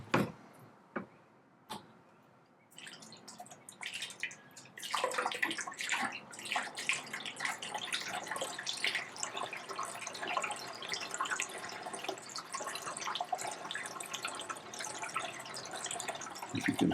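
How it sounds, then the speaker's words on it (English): Water poured into an ultrasonic record cleaning machine: a few faint drips and taps, then a steady splashing, trickling stream running continuously into the tank, close and moderately loud. "as you're pouring the water, it takes a little bit of time to get through the mechanism"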